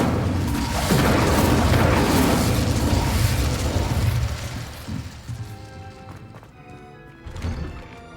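Confringo and Incendio spell blasts in Hogwarts Legacy, loud booming fiery bursts rolling close in the first half, then fading into lighter crackles and a final smaller pop.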